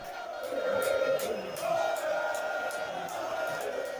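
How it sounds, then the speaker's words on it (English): Protesting crowd at a political event in Techiman South, a loud mass of shouting voices with rhythmic chant-like surges, sustained and close throughout. "This video shows protest from the crowd."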